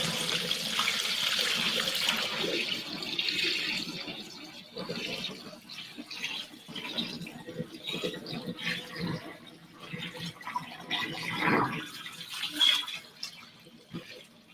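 Liquid from organic wild-crafted sea moss is poured out, a steady close splashing stream at first that thins into softer trickles and drips.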